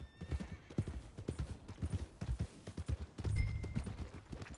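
Horse hooves clip-clop steadily in Red Dead Redemption, a regular rhythmic trot close by, with a faint whinny and a short rumbling patch partway through.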